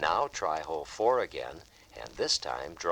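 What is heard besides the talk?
No everyday noise stands out behind the speech.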